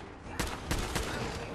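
Sharp gunfire in the Fallout video game: three loud, distinct shots land close together over a low, steady background.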